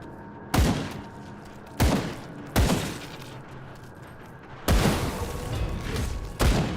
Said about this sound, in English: I'm using a shotgun to shoot a fly.